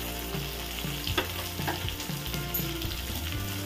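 Onions and salted chopped tomatoes frying in a pan for Bengali shapla chingri (water lily stems with prawn), a close, steady sizzle broken by regular scraping stirs of the spatula, with no talking.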